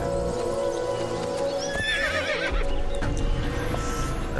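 A horse in Assassin's Creed II, set in Venice, gives a loud, close whinny that rises and wavers over a continuous bed of hooves and ambient noise.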